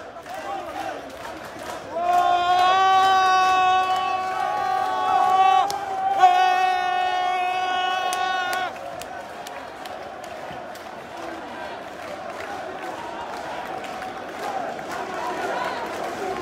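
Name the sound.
crowd of protesters marching in Paris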